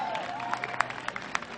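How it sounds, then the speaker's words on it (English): Applause from a concert audience after trumpet and alto and tenor saxophone solos, a soft, scattered patter of clapping with a few sharper claps, heard at a distance at low volume. "Now wait a minute, don't clap yet"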